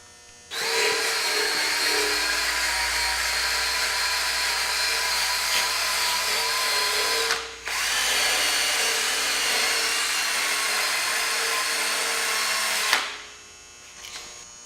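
A power tool removes rust from a metal rack for a dually truck, a loud steady whine running nearly continuously, briefly cutting out and restarting once, then stopping near the end.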